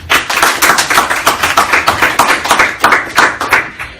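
An audience applauds to welcome speaker Judy Hoberman onto the stage. The clapping is close, loud and dense, with a pulsing rhythm of many hands that holds steady throughout.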